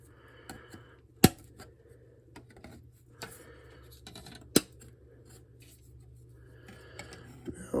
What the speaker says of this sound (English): let's go ahead and let's cut out the floor of the Razorback that we're gonna make